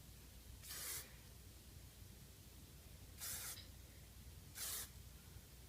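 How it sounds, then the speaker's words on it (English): Three short bursts of hairspray hiss out close by onto hair, each about a third of a second, separated by pauses over faint background noise. "So I'm going to spray this base part here so that the shape is really good."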